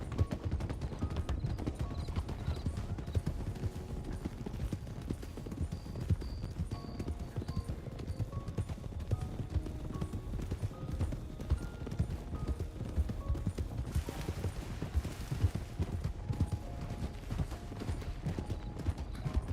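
Steady clip-clop of horse hooves in Red Dead Redemption 2, a continuous rhythmic trot close by that stays even in level throughout, with soft background ambience and no clear talk over it.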